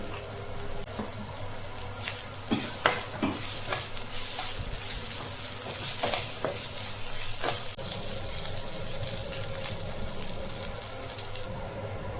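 Ginger garlic paste and turmeric sizzle steadily in hot oil while being stir-fried for chicken liver fry, with repeated scraping and stirring clatters over a continuous frying hiss and no talking.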